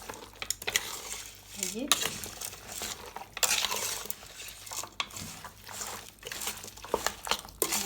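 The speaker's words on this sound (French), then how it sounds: "Comme ça, on va bien mélanger." A spoon stirs Moroccan harira soup in a pot on an electric stove, with repeated scraping and clinking against the pot and a soft simmer underneath, while someone speaks briefly.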